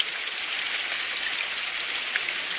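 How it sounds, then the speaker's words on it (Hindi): Steady, dense rainfall hisses continuously, with many small drops pattering on a surface; no voices, just a constant wash of rain. "अगर ऐसे ही बारिश होती रही"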